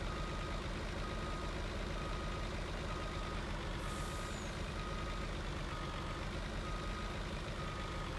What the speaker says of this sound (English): So I picked up the TGS flatbed.